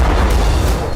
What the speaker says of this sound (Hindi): यूक्रेन से दागे गए रॉकेट और रूस के शहर में होने लगे धमाके